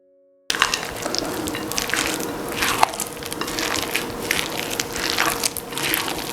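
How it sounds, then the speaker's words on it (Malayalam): British plum cake batter is folded by hand, a steady wet, squelching churn with soft scraping that runs close and fairly loud throughout after a brief silent start. "ജസ്റ്റ് ഒന്ന് ഫോൾഡ് ചെയ്ത് കൊടുക്കുക."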